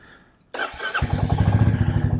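A Royal Enfield Meteor 350 motorcycle starts after a short quiet moment, then settles into a steady, thumping idle with an even pulsing beat, close and fairly loud.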